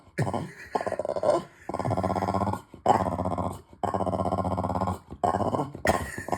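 A pet dog named Sid growls and whimpers in long, throaty bursts separated by short pauses, close and fairly loud, with no talking over it.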